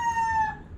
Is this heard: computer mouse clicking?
no